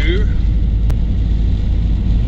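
A car drives south along a road leaving Donegal town in Ireland, its steady engine and road rumble filling the short stretch, with a voice briefly audible at the start.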